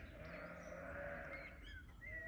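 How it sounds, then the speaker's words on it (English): Sheep bleating outdoors, a few fairly faint, drawn-out wavering cries over a low background hum, with no talking. "There's some sheep going mental out here."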